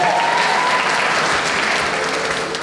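Dense audience applause at a children's pageant, a full burst of clapping that fades slightly toward the end, with a voice faintly audible underneath.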